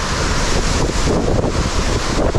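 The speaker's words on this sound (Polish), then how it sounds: "Szkoda, że jest wiatr i pewnie strasznie szumi wszystko." Strong wind buffets the microphone with a constant low roaring rumble and gusty thumps, and no voices.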